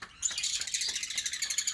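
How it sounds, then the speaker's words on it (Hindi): A parrot chirps rapidly and shrilly in quick repeated bursts, close and fairly faint, with no other sounds. "और मिठू तोते भी बाहर निकले बैठे ने,"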